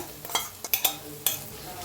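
Curd being stirred into frying chole masala in a pan: a few quick scraping stir strokes over a soft, constant sizzle, close by and with no voices.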